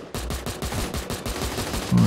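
The Woodpecker Evolution Gun firing in a shooter video game: a rapid, evenly spaced burst of heavy automatic shots, loud and close, running for about two seconds.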